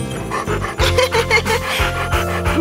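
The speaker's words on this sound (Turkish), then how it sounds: "Bu sabah çok oyuncusun minik köpek." A small cartoon dog in an animated Halloween tale, panting and giving soft yappy sounds in quick bursts over background music.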